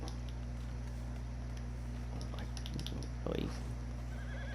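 A brief horse whinny in the video game Red Dead Redemption 2 rises over a steady electronic hum and faint background noise, fairly quiet and close.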